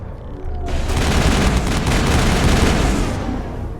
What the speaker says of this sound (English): Those are rockets